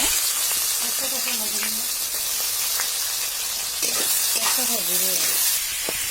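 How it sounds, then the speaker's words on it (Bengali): Chopped onions sizzle steadily in hot oil in a pan, with a broad frying hiss running throughout and occasional scrapes of a spoon stirring them; faint voices and kitchen sounds appear briefly in the background. "ভালো করে পেঁয়াজগুলো একটু ভেজে নিব"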